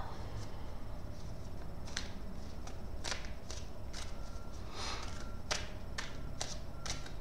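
Tarot cards riffle and snap together in a series of quick, crisp bursts, close up and fairly quiet, with brief pauses between shuffles.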